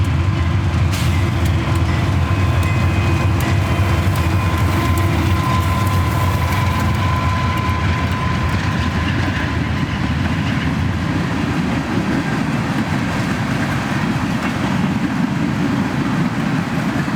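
Nashville and Eastern train led by locomotive 5938 rolls past close by, a steady, loud rumble of wheels and engine with faint tonal whines, continuing without a break.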